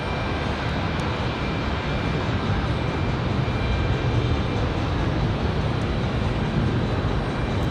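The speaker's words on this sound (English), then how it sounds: "Somebody departing on 23 left." An airliner departs from runway 23 left at Raleigh-Durham, a loud sustained broadband jet roar holding steady throughout with no talk over it.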